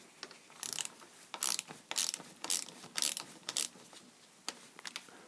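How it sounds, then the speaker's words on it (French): A ratchet with a 10 mm socket backs out the upper shaft bolt on a Lucas DPC diesel injection pump, giving bursts of quick clicking pawl strokes in a steady stop-start rhythm, close up with no talking. "avec une douille de 10, on va démonter l'axe supérieur"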